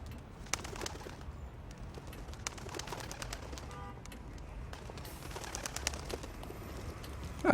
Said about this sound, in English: I envy the pigeons.